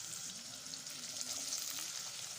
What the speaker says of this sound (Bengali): গাজরটা ভালো করে ভেজে নেব